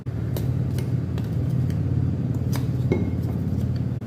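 Ground palm jaggery laddu mix tipped from a grinder jar into a bowl, giving a steady low rumbling scrape with a few light clinks of glass or metal throughout, close and fairly loud, no talking.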